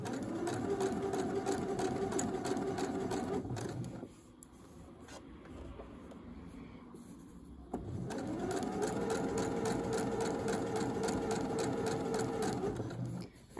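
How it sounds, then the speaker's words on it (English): A sewing machine stitches a dress seam along a marked white line, running in a steady, loud buzz for about four seconds, pausing briefly, then resuming for a second long stretch of even stitching. "we're going to stitch all the way down this white line"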